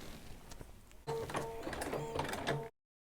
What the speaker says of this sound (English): it will do a zigzag tack down line for the fabric